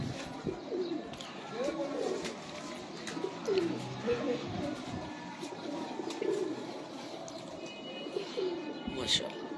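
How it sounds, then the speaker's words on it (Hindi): Old-breed high-flying pigeons give soft repeated coos from nearby against a busy outdoor background, with people talking faintly around them. "यहाँ पे जो कबूतर आपको दिखा रहा हूँ ये सब उड़ने वाले हैं।"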